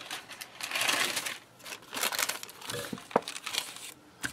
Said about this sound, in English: And I'm going to get a piece of wax paper